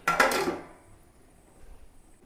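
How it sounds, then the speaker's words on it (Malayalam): Lid set down on a cooking pot of chicken and tapioca, a short clattering metallic knock at the start that quickly fades into quiet room hiss. "ഒന്ന് മൂടി വെക്കാട്ടോ"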